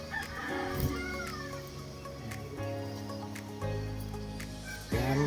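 Several gamecocks being conditioned for a show crow loudly and repeatedly, their long calls overlapping close by, with occasional clucks behind them.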